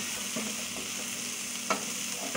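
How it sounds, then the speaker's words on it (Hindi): Chopped cauliflower and other vegetables sizzle steadily in a hot pan, with occasional clinks and scrapes from stirring, close and alone without talk. "अब थोड़ी देर मैं इसे भूनूंगी,"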